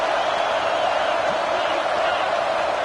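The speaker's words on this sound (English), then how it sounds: "It's early, but this crowd is fired up. Listen to this noise here." A college football video game crowd at a Miami vs Alabama stadium matchup, a dense, unbroken roar of cheering that holds steady and loud from start to finish.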